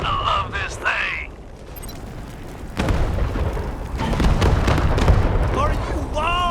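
Heavy rocket gun blasts in the video game Wasteland 3 go off as sudden booming bursts amid game effects, with shouted voices over the action.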